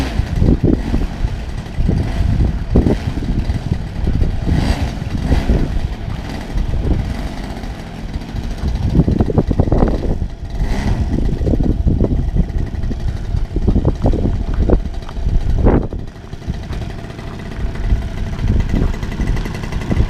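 A modified Hobby-King R3 Gee Bee RC model plane's motor runs steadily and loudly throughout, its buzzing pitch rising and falling as the throttle changes, with no talking over it.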